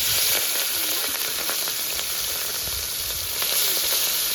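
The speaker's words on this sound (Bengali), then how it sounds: "এবার চিংড়ি মাছগুলো ভেজে নেব।" Prawns coated in turmeric, salt and red chili powder fry in hot oil, giving a steady, loud, close sizzle with a continuous hiss throughout and no talking.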